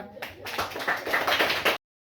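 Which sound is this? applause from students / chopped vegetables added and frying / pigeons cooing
applause from students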